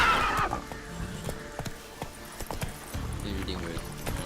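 Geralt's horse Roach in The Witcher 3, with hoof clip-clops and a brief whinny amid game ambience, while someone talks over it.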